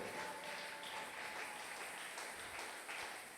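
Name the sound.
audience applauding loudly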